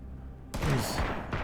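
Magnum pistol shots in the video game !Mrak, a sudden loud burst of gunfire after a quiet moment, with a second blast shortly after, close and heavy.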